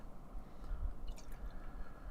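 Stout beer is poured from a bottle into a tulip glass, giving a faint, soft gurgling and splashing trickle that continues quietly throughout.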